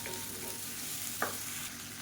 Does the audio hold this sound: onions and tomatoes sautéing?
yes